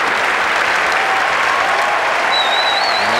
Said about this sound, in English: And a big roar for the young Australian from this crowd.